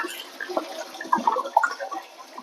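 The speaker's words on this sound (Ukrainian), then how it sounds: "Ботаніка йде на виброс, зараз заливаємо сам настой" Lavender gin infusion poured into a still for distillation, soft irregular liquid splashes and trickles with small gurgles, faint and close, with no talking.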